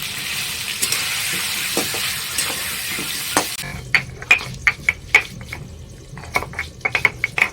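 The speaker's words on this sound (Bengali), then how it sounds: "আলুগুলো সুন্দর লাল লাল করে ভেজে নেবো" Potato pieces frying with turmeric in hot oil, first a dense steady sizzle, then after a pause a string of sharp scraping stirs and clinks over a quieter hiss.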